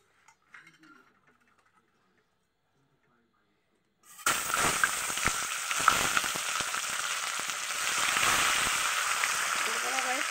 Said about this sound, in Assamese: এই মাছ মই এতিয়া ধুনীয়াকৈ ইয়াতে ফ্ৰাই কৰি ল'ম।